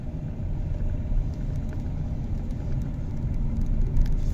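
A car's engine hums in third gear under light throttle on a driving test route in Adalar, a steady close rumble of road and motor noise that swells slightly toward the end, with no talk.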